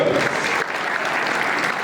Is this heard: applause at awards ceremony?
yes